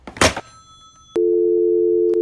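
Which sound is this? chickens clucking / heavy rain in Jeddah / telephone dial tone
telephone dial tone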